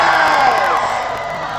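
A crowd of Australian fans cheering loudly for the Matildas at a Women's World Cup viewing gathering, a sustained wash of whoops and yells that slowly fades.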